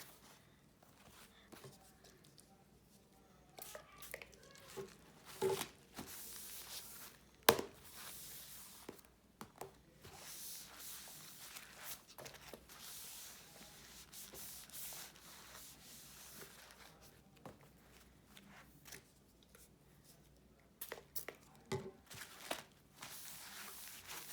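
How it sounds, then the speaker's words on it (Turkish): Dusty books being wiped with disinfectant, soft intermittent rubbing and cloth swipes with occasional taps and handling sounds, quiet and close. "Bu dezenfektan hemen siliyorum"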